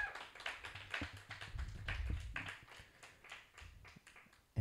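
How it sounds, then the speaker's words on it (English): An audience at a poetry slam claps for a competitor, light scattered applause from a modest crowd, fairly quiet and uneven, tapering toward the end. "Let's get another round of applause for Ben."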